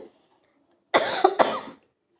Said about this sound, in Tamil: இருமல் வந்துடுச்சு